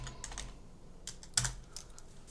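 Keys on a computer keyboard are pressed in short bursts of clicking, close by, with a brief pause and a slightly louder keystroke midway.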